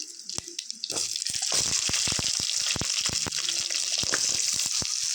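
Shallots drop into hot oil in a mud pot and sizzle loudly, a dense continuous hiss with scattered crackles and pops starting about a second in and staying close.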